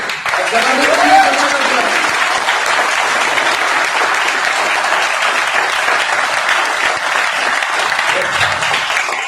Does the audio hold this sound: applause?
yes